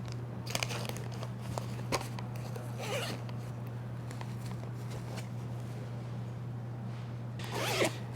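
Zipper on a Peak Design travel pouch pocket, several short close rasping zips in quick bursts, with a longer final pull near the end, over a faint steady background hum.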